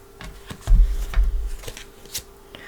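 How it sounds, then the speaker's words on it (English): Tarot cards shuffled by hand, a soft papery riffle and rustle building to a dense burst of flutters in the middle before trailing off, close and moderately loud. "We're going to shuffle for your cards."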